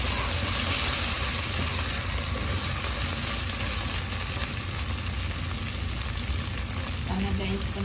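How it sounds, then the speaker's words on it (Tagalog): Onions frying over low heat in a pan, a continuous close sizzle with a faint hum beneath, and someone speaking over it near the end. "Ang pagluluto nito guys ng ating onions ay kailangan din siyang mahinahon na apoy para hindi siya masunog"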